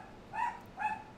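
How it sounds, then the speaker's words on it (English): A dog barks twice from somewhere off in another room, two short, muffled woofs about half a second apart over a quiet room hum, with no talking over them. "My dog is barking."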